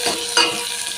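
Onion sizzles in a pan while being stirred, heard up close as a short dense frying hiss with one brief scrape, no voices.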